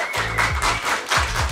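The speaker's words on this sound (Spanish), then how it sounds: "Un aplauso para la gente de la Casa Pucará" An audience applauds steadily at a talk program filmed at Casa Pucará, with dense, even clapping that swells and dips over the brief stretch.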